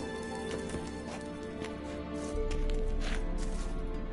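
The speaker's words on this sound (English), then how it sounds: "Another horse." Horse hooves clip-clopping in The Witcher 3 video game, a steady rhythmic trot over a constant background hum, with occasional faint neighing and a rise in ambient noise partway through.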